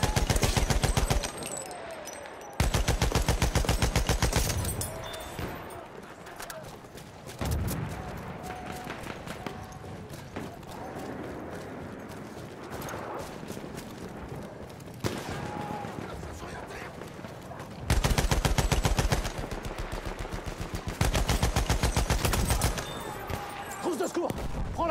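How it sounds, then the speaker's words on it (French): Machine gun fire in a World War I shooter set at Verdun: loud, dense bursts of rapid automatic shots recurring through the scene, with quieter battle noise and spoken game prompts in between. "Mitrailleuse ennemie en vue."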